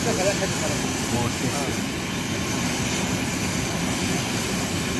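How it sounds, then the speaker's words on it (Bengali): A Biman Bangladesh Airlines propeller airplane's engine runs with spinning propellers on an airport runway, giving a loud, steady roar throughout. "বিমানের যে পাখাগুলো ঘুরতেছে।"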